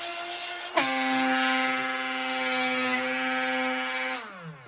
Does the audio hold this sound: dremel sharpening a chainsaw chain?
yes